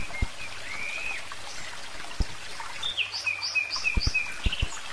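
Small birds chirping and twittering in a schoolyard, with short high calls and trills at moderate distance over a faint steady background and a few sharp clicks.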